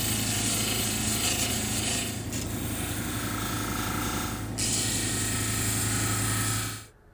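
A lapidary polishing wheel grinding a thomsonite stone at the 600 grit stage: a continuous close mechanical whir and hum with steady high-pitched hiss, dipping slightly midway, then cutting off at the end.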